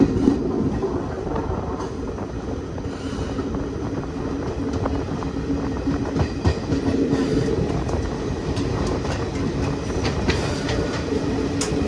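An Indian special passenger train rolls along the rails with a steady, continuous rumble and rhythmic clickety-clack of wheels, loud and close throughout, with no talking.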